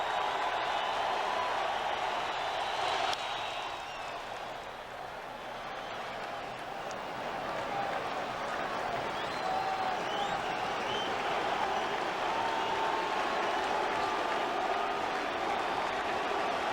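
A packed Dodger Stadium crowd of 55,992 at a 2004 NLDS playoff game against the Cardinals rises and cheers, a broad sustained roar of applause and voices that swells and stays loud throughout.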